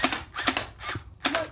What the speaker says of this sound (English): Now I shall be shooting this magical cardboard box that's about to get insanely destroyed.